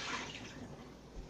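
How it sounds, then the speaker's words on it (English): Water is dumped out of a container in a brief, fairly close splashing pour that tapers off within a second or so. "So let's dump the water out."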